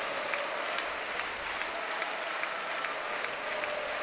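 Crowd at a women's college volleyball match, Wisconsin against UC Davis, applauding and cheering steadily as the home side serves an ace on set point; a dense, continuous roar of clapping fills the whole stretch with no voices standing out.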